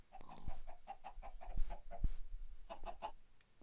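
Blocky chickens in Minecraft cluck repeatedly in short, close bursts, several birds overlapping in a steady chatter with a low thump or two underneath.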